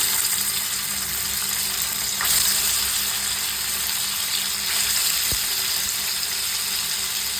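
Paneer frying in white oil in a kadai, giving a steady, moderate sizzle with a faint background hiss and one brief clink midway, no talking.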